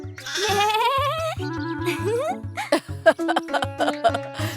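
A human voice imitates a goat's bleat in a children's story, giving wavering, pitched cries that sit among musical background tones and other short vocal sounds.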